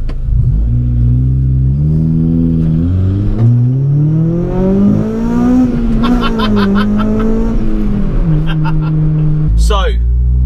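A Honda Civic EK9 Type R revs hard on a B road, its engine note climbing steadily into VTEC with a sharpening howl before easing off, heard loud from inside the cabin.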